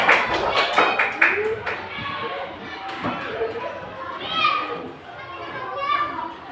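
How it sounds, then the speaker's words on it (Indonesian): Children in a classroom clapping together in a few quick bursts, mixed with lively kids' chatter and an adult voice talking, close and fairly loud. "tepuk tangan"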